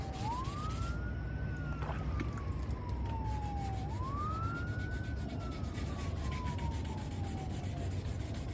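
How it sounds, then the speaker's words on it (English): An emergency vehicle siren, police car or fire truck, wails in two long rising and falling sweeps at moderate distance over steady background noise. "Sounds like a fire truck. I think it's a police officer."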